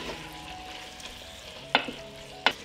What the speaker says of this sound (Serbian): Sve ću to promešati i propržiti zajedno 1 minut.